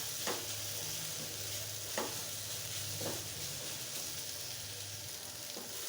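Snake gourd fried with salted hilsa in a pan, giving an even background sizzle and about three distinct stirring scrapes spaced a second or so apart, close up, with no voices.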